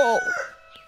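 A rooster crows once, a short loud cock-a-doodle-doo call heard alone and close.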